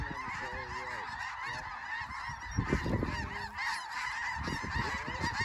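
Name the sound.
snow geese honking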